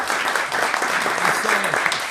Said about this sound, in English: we just gave a round of applause